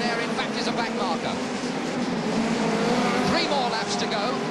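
Hot rod race cars lap a track at Wimbledon in 1982, engines roaring in a dense continuous blare with tyre squeal, a commentator talking over the racing throughout.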